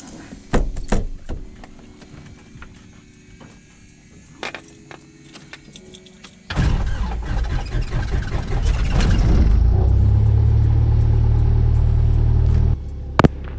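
A Cessna's small engine coughs and catches after some scattered clicks and knocks, then settles into a loud, steady propeller drone that holds to the end.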